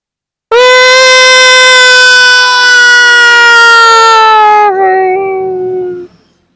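A voice imitates a jackal with one long, loud, sustained howl that wavers gently in pitch, then drops lower before fading out, heard alone with no other sound.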